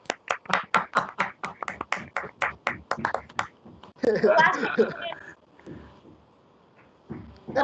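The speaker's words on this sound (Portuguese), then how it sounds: "Outra salva de palmas, porque tá muito bom." An audience at a talk gives a brisk burst of clapping, crisp evenly spaced claps close to the microphone, followed by a voice speaking and a brief pause.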